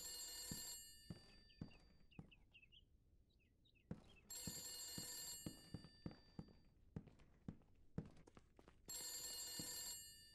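An old-style telephone bell rings in three loud bursts in The Beast Inside, a horror video game, with footsteps, knocks and clunks in the gaps between the rings.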